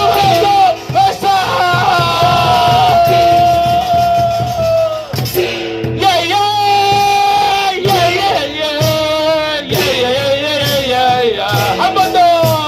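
Citizens at an outdoor protest rally in Hwajeong Station square, Goyang, shouting and cheering together in a loud, sustained roar, backed by strong tonal music that runs throughout with brief dips.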